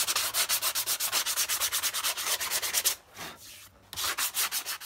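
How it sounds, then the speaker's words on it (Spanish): A sanding block rubs rhythmically across a horse's hoof, producing quick, evenly spaced rasping strokes up close, pausing briefly before the scraping resumes at the same brisk pace. "Podemos finalizar con un bloque de lija."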